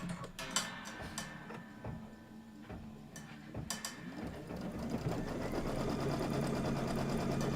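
A sewing machine stitches a table topper, opening with quiet mechanical clicks and ticks before settling into a steady, soft running hum.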